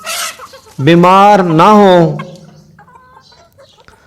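A hen gives a loud, drawn-out squawking cluck close by, then quieter clucks and faint farmyard noise follow. A brief voice is heard at the start.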